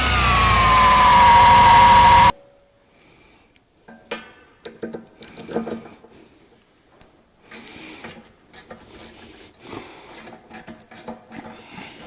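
A loud, high whining drill bores into steel for about two seconds, then stops, followed by quieter scraping and clinking of metal work nearby.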